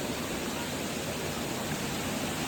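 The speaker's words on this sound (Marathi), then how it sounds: "धबधब्याचा आवाज येतोय का नाही ते सांगा तुम्ही." A constant, even rush of falling water sounds from a short distance away from a small hidden waterfall near Badlapur, India, with no voices.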